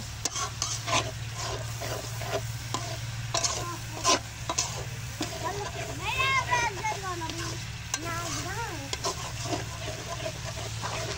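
Food is sautéed and stirred in a pan during an outdoor picnic, giving a steady sizzle and frequent close scraping strokes of a spoon. Chickens cluck nearby in the background, and a low engine-like hum persists throughout.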